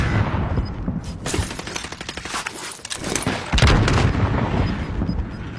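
Rapid automatic gunfire in the video game Warzone, loud and close, with dense bursts of shots and heavy low booms running almost the whole time; no voices.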